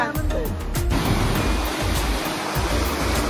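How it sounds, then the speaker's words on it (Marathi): A rain-swollen river surges under a bridge after a night of heavy rain near Pune. Its loud, steady rushing roar carries a low rumble and continues without a break throughout. "कसलं पाणी विशारडे. पुलाला चिटकून चालले खाली."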